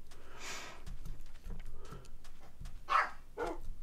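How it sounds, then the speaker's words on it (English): A real dog barks several times in short, separated bursts, fairly near and alone, with quiet background game sounds. "Sorry about the real dog barking in the background."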